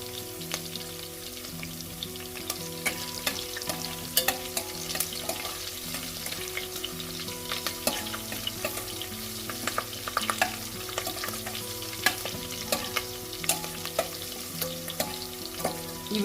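Cumin, mustard seeds and curry leaves frying in hot oil for a broccoli and tomato curry. The crackle and sizzle stay close and steady, with frequent sharp pops and no voices.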